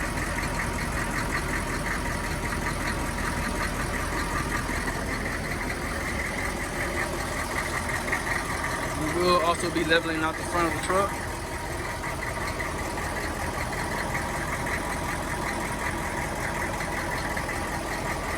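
A 1994 Chevy Silverado C3500 Travel Quest with a 6.5L diesel idles steadily nearby, a constant low clattering rumble throughout with a brief louder burst midway, while someone talks over it.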